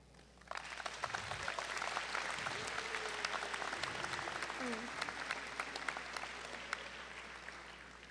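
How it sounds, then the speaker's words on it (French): Sustained applause from an audience at a 2023 college graduation ceremony in Bathurst, steady and dense for several seconds, with a faint voice briefly heard underneath. "ça mérite une main d'applaudissement pour tout le cheminement que tu as fait"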